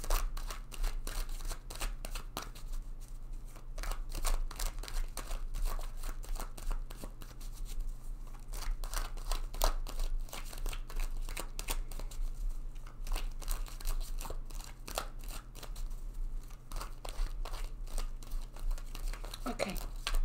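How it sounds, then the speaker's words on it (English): A deck of tarot cards is shuffled over and over, giving quiet, close, rapid riffling and flicking bursts with soft crinkly texture above a low steady hum. "I'm going to shuffle this deck several times."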